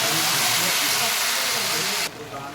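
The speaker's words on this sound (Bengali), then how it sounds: "এবার আমি ভালো করে মশলাটাকে কষিয়ে নেব।" Turmeric, cumin powder and a little sugar sizzling hard in a hot pan during Bengali cooking, a loud continuous frying hiss that drops sharply near the end.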